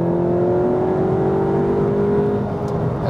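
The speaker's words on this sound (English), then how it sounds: "from this sound, would you believe it's a 2-liter 4-cylinder?" A Seat Leon Cupra 300 with a 2-liter 4-cylinder engine drones steadily under load from inside the cabin, a loud sustained tone that rises slightly in pitch, with no talking.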